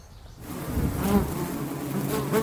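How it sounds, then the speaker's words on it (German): Honeybees swarm around four hive boxes at the edge of a garden in Rietberg-Mastholte, making a dense, close, continuous buzzing hum that starts after a moment of quiet. "In seinen vier Kästen am Rande des Gartens in Riedberg-Mastholte summt und brummt es."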